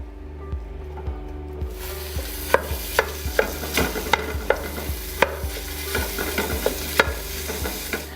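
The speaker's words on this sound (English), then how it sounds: "I've got about 1 pound of sausage, and that's gonna go into our pan, which is already on" A pound of sausage sizzles and fries in a hot pan while a spoon or spatula scrapes and breaks it up, with steady frying hiss under repeated rhythmic stirring clicks, close and fairly loud, no talking.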